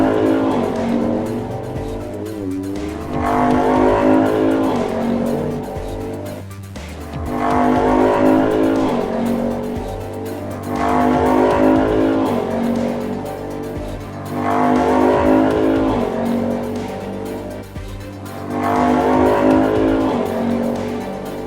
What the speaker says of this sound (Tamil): வண்டி எடுத்துட்டு வா.